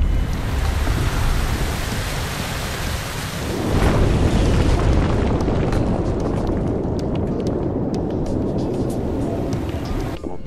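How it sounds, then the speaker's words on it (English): Water rushing in and flooding an ancient control room in the Dave the Diver video game, a loud, continuous roaring torrent that surges after a few seconds, with scattered clicks and splashes. "The water is filling up."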